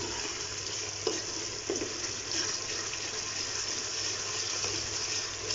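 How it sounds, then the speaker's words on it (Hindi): Garlic, with ginger and fat, frying in a pot for haleem, giving a steady close sizzle with a few soft stirring knocks, and no voices. "लहसुन बड़ी जल्दी फ्राई हो जाता है"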